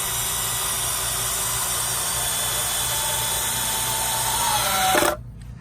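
A power drill drives a screw into a board of a raised garden bed, a loud steady whirring motor that runs continuously for about five seconds before stopping abruptly.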